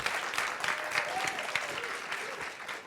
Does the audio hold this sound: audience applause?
yes